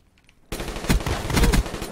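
Rapid automatic gunfire in Black Ops multiplayer, starting abruptly after a short quiet moment and continuing as a loud, dense burst of shots.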